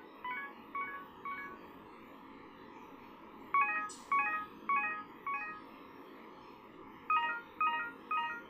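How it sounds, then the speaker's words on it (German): Telephone keypad dialing tones beep in quick groups of short, even pulses, three or four per burst with pauses between, at a moderate level over a faint low hum, with no voices. "Was ist denn das? Das Telefon."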